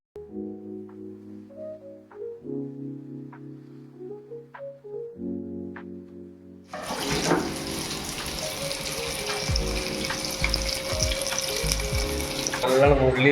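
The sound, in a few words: water running while straining soaked rice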